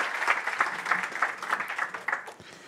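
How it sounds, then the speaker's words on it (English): At a cybersecurity and privacy conference, an audience gives a short round of steady, moderately close clapping that thins out after about two seconds. "Let's give him an applause"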